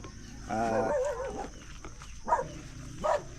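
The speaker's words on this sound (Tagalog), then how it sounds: "May aso" A dog barks a few times outdoors, a longer howling bark followed by two short yelps, moderately close against quiet background noise.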